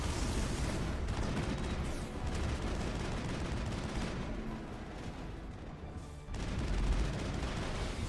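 Pistol gunfire in the video game Mass Effect, a dense, continuous barrage of shots and bursts that carries on loudly for several seconds with only brief dips.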